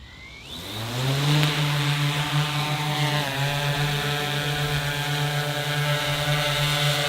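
A remote-controlled aircraft with retracting landing gear spools up, its motor rising into a loud, steady high-pitched whine that holds constant and close without voices.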